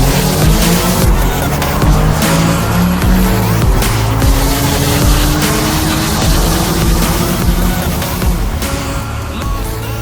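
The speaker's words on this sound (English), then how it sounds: "letting me drive out his M340i with the full exhaust and no tune, race another 340i with the first gen B58 with an exhaust" A BMW M340i with a full exhaust and no tune racing another 340i with a first-gen B58 engine and exhaust, a loud sustained engine roar with rising gear-pulled tones and tire noise, close and continuous throughout.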